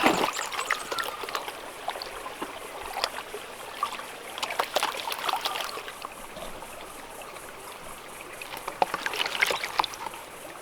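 Gravel and water swirled and sloshed in a gold pan, with irregular splashes, trickles and gritty scraping of stones, close up and steady throughout, no speech.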